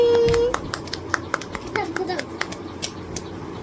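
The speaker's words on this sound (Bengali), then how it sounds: "হাততালি দে হাততালি দে হাততালি" Sharp hand claps ring out irregularly at home in the evening, mixed with children's voices and family chatter throughout.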